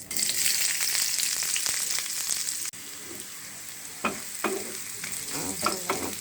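Onions and green chilies fry in oil with a dense, loud sizzle that eases midway, then continues more quietly while several distinct stirring scrapes sound.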